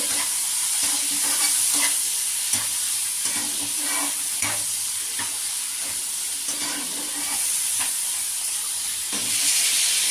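Prawns frying in oil with a little turmeric, a close, steady hiss and sizzle with occasional soft stirring knocks, continuing without pause and with no voices.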